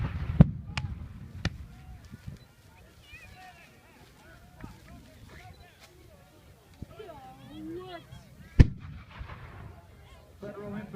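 Pistol shots ring out at a Civil War reenactment on a farm, a few sharp, loud bangs spaced irregularly with a longer gap before a final, louder report, while someone narrates over faint outdoor background noise.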